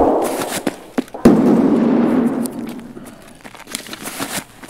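Gunshots in a video game firefight: a few sharp cracks, one loud crack followed by a decaying burst, then scattered lighter pops, close and loud with no talk over them.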